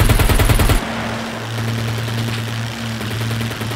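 A rapid burst of aircraft machine-gun fire in a video game dogfight, loud and close for under a second, then a steady droning aircraft engine hum continues alone.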